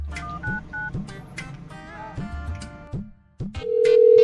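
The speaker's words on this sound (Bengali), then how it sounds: "আবার অফিসেই ফোনটা করি।" A phone keypad dials a number in a quick series of short beeping tones with brief gaps, followed by a sustained steady tone as the call connects.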